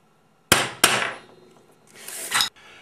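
A centre punch is hammered into a metal base plate to mark hole positions for bearing blocks. Two sharp, close metallic strikes land in quick succession, followed by a scraping rub.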